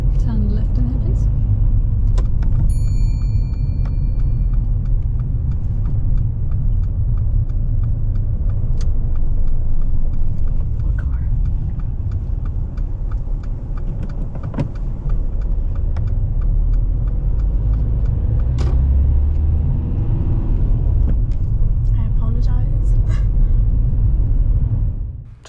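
Car interior rumble during a mock driving test on a town road, a steady low engine and road drone throughout, with small rattles and clicks over it and a voice talking now and then.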